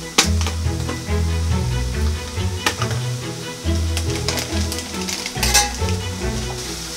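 Butter and onions sizzle loudly in a pan with a constant frying hiss. Sharp utensil clacks and stirring knocks come through now and then, with no talk.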